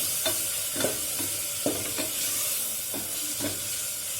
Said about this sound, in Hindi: तो इसके अंदर अब हम जो एक टमाटर हमने लिया था कटा हुआ वो भी डाल देंगे